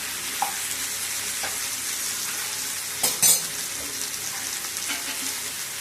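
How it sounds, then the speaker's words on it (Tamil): Tomato and onion sauté in a pan with a steady, loud sizzle throughout, broken by a few sharp clinks and a stronger crackle burst near the middle, no voices. "தக்காளி வெங்காயம் வதங்கினாலே போதும்."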